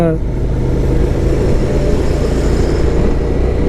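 Dense, steady rumble of trucks and highway traffic crawling in a jam, a loud continuous engine drone with no clear gaps, voices faintly under it.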